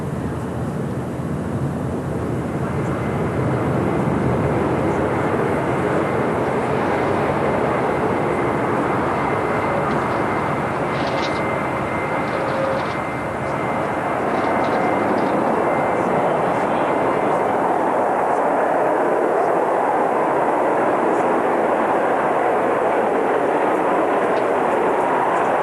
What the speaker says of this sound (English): Just a couple of minutes behind that first Concorde. And let's hear this one come down.